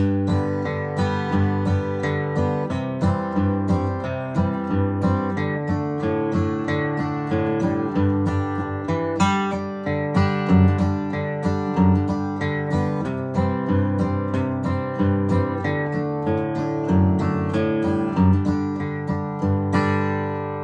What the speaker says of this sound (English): It's called the boom chick.